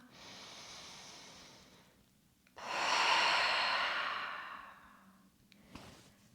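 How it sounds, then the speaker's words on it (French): Slow, deep breaths during a yoga flow practice: a soft airy inhale, a pause, then a longer, stronger exhale that swells and fades, heard close and alone in a quiet room. "Inspirez. Relâchez. Encore une fois."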